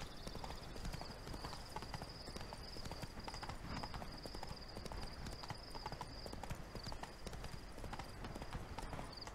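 Roach, a horse in The Witcher 3: Wild Hunt, clip-clops with quiet, continuous hoofbeats at a steady gait, heard alone at low volume.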